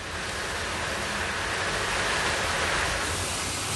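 Water flushes debris down through a screen inside the Kuala Lumpur mega tunnel, a loud, steady broadband rush that holds at the same level without a break.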